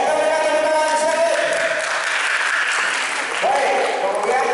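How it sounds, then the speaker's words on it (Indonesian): Applause from an audience at a 2023 Christmas event, a dense, steady clapping that swells and continues for several seconds, with voices mixed in. "Oke, kita berikan tepuk tangan dulu."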